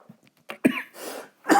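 A man coughs and clears his throat several times in short, separate bursts, close to the microphone but fairly quiet, with a pause between the bursts.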